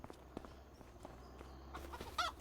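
Chickens at a coop in Farming Simulator 25 cluck faintly amid soft footsteps and light background noise, with one sharper squawk near the end.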